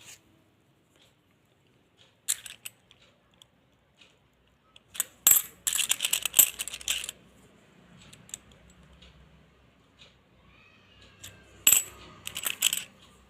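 Handling a lot of 1 rupee coins, London Mint issues, with scattered single clinks followed by clustered jingling and rattling bursts of metal coins, close and fairly loud.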